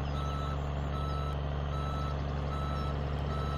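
Steady reversing alarm of a Freightliner dump truck in the Farming Simulator 17 game, backing up on a sidewalk repair job, beeping continuously over a loud low engine drone with no talk.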